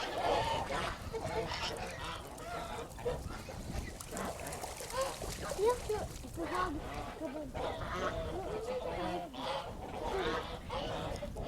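A noisy flock of geese honking continuously, overlapping calls from several birds nearby, with some background chatter mixed in.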